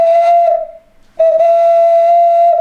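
A loud handmade clay whistle blown in two long, steady, piercing tones, a short blast followed by a brief pause and then a longer sustained note, close and alone.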